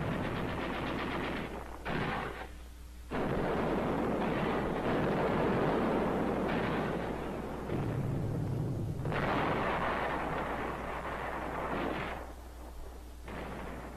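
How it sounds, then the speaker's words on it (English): Heavy battle din from the 1944 fight for Tinian's southern peninsula: machine gun, mortar and artillery fire roar almost continuously with dense bursts and booms, dipping briefly in a few short lulls, with no voices. "machine gun, mortar, and some artillery fire."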